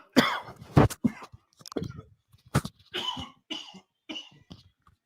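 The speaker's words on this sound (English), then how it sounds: "I know when I cough, it coughs right into the ear hole." Several sharp coughs and throat clearings from a man close to a headset microphone during a live football watch party, coming in uneven bursts with short gaps between them.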